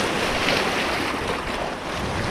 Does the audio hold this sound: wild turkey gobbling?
no